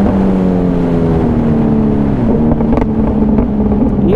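A Kawasaki Z900 motorcycle exhaust drones steadily at idle and light revs, loud and close, with a few sharp crackling backfire pops near the end.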